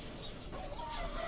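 A domestic hen in a breeding cage gives soft, faint clucks close by against a steady background hiss, with no speech.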